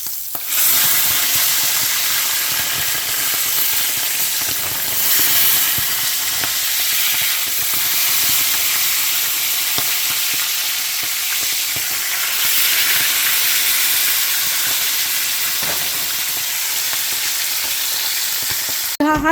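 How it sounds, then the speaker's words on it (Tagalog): Milkfish (bangus) frying in oil in a covered pan gives off a steady, loud, hissing sizzle with occasional spitting pops, continuous and alone throughout. "Takipan natin dahil matalsik ang bangus."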